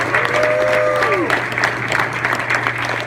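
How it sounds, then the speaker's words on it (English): Audience applause at a golf awards event, a sustained wash of clapping from many hands filling the room, with a brief tonal sound over it early on. "Let's give them a round of applause."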